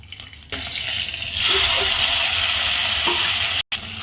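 Garlic sizzles and crackles in oil in a pan, the frying hiss swelling louder after a soft clink at the start.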